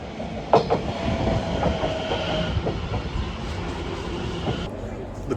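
A train rumbles steadily through a station with clattering wheels and a faint high squeal, heard close and continuous from start to finish.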